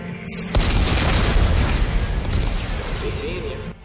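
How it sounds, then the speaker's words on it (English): Explosives detonating in the video game Dead Space 3 make a loud, sustained booming rumble with crackling debris that starts abruptly and slowly fades. "Computer, arm explosives. And detonate."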